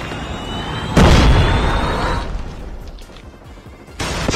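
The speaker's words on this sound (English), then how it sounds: "Friendly predator missile inbound." A predator missile strike in the Call of Duty Mobile video game: a sudden loud broadband blast that decays over about a second with rumbling debris, followed by a second sharp burst near the end.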